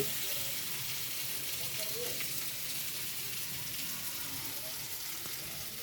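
Vegetarian food cooks on a stove with a soft, steady sizzle. The sound is faint and continuous, and a little background noise runs throughout.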